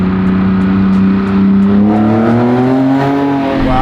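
A BMW E30 M3 fitted with a swapped E46 M3 engine runs loud and close, holding a steady throaty drone before the pitch climbs slightly as it revs, with no voices over it.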